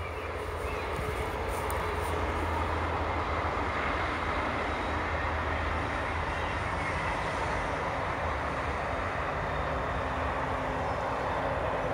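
Train passing in Glasgow, a steady broad rumble and roar throughout, even and fairly close, with no talking heard.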